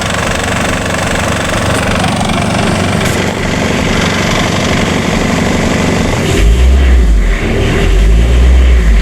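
A machine's engine is being warmed up and runs loud and close in a steady knocking drone, then deepens into a heavier rumble near the end, with no voices.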